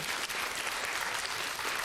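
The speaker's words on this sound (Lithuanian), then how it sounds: "Šiaip iš tikrųjų plojimai, puikus pasirodymas." A studio audience claps in steady, dense applause at a comedy contest show, loud and continuous without a break.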